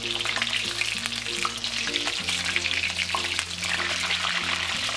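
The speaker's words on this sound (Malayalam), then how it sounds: "ഈ എടുത്തു വെച്ചിരിക്കുന്ന പൊട്ടറ്റോ ഇതിലേക്കിട്ട് ഫ്രൈ ചെയ്തെടുക്കാം." Potatoes frying in hot oil in a pan give a steady, close sizzle that holds evenly throughout, with a low hum underneath and no talking.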